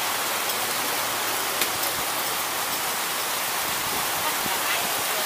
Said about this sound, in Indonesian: Hujannya parah.